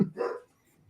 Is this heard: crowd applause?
no